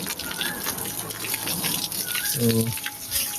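Water splashing and gushing onto a newly built brick-and-mortar pillar at a home construction site, a steady nearby pour with a brief spoken word over it.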